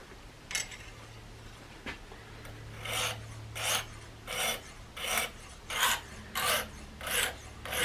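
Knife blade, a SOG Terminus, stroked back and forth across a coarse grit whetstone in repeated rasping passes about every half second, close and fairly loud, with a low steady hum underneath and no talk.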